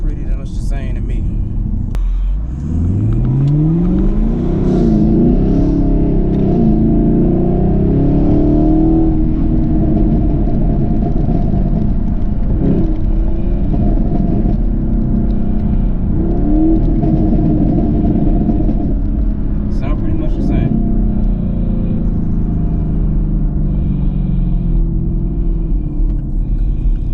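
A 2021 Chevrolet Camaro SS with its NPP fuse pulled starts up with a sweeping engine climb, then settles into a deep, loud exhaust rumble broken by several sharp revs, with voices talking over it.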